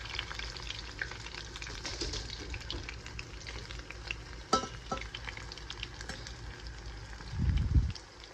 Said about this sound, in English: we're gonna start frying the potatoes